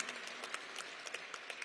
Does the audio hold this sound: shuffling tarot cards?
no